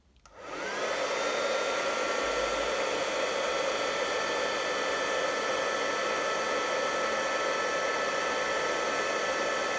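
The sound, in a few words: heat tool melting Tyvek to make beads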